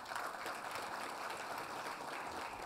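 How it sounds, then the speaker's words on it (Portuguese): A conference audience gives a round of applause for a session moderator, an economics editor, at a telecom industry panel. The clapping is dense, even and fairly distant, with no break and no voices over it. "Peço uma salva de palmas, Paulo."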